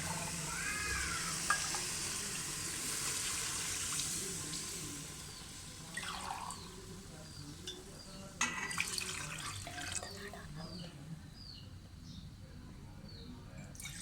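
Water pours steadily into a cooking pot of rice for several seconds and then stops, leaving quieter clinks and faint chirps in the background.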